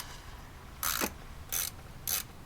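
A ratchet tightens the valve cover bolts on a Toyota 1ZZ-FE engine in a Matrix/Corolla: three short bursts of close, rapid clicking, each under half a second, separated by brief pauses against a quiet background.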